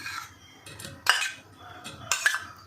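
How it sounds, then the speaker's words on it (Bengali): Paneer pieces tipped from a small bowl into a larger one, giving a few brief clinks and scrapes of utensil against dishware in short bursts, close by and fairly quiet, with no talking. "দেখুন এই ছোটো বাটি থেকে আমি এই বড় বাটিতে পনিরগুলো নিয়ে নিলাম"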